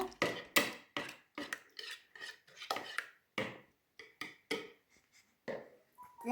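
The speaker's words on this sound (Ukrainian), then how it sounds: "Але сьогодні готуємо з цукром. Так, перемішуємо." Pumpkin pancake batter with sugar being stirred in a bowl, a run of short scraping, rasping strokes in an uneven rhythm, close and fairly quiet, with no talking.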